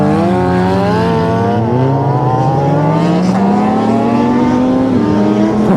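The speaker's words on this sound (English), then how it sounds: "This guy's about to race." At a car meet, a car revs hard and accelerates away, its engine note climbing loud and close through rising gears, with a rough edge that suggests tire noise, and nobody talks over it.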